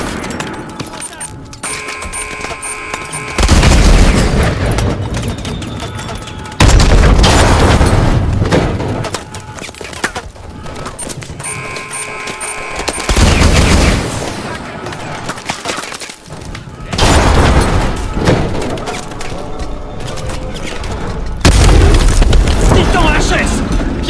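Rocket launcher blasts and heavy gunfire from the Call of Duty: Advanced Warfare video game, with loud booming explosions recurring every few seconds over a dense, continuous battle din.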